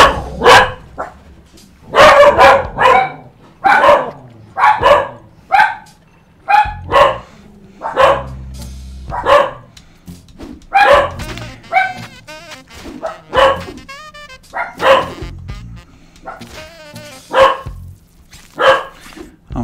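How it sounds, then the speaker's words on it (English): Dogs bark at passing traffic in a run of loud, close barks, sharp and repeated at irregular intervals with a few higher yips between them, and no talk. "I've got these rather silly, stupid dogs who seem to bark at traffic."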